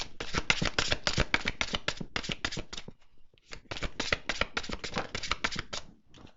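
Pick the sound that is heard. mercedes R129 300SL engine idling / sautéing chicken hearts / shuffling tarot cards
shuffling tarot cards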